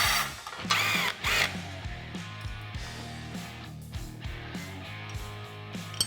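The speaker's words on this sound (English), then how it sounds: "You'll just wanna remove all 4 of the Allen head screws." A power driver backs Allen head screws out of the recessed light cover on a winch-ready SuperATV front bumper of a Kawasaki Teryx 4, with short whirring bursts, a high whine and ratcheting clicks, close up.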